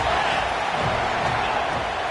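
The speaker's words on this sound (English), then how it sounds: "This crowd knows when to bring it." A football stadium crowd at a Tennessee versus Nebraska game roars in a steady, dense wash of cheering and yelling, loud and continuous throughout with no pauses.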